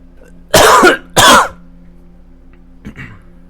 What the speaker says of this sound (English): I have to cough really loud.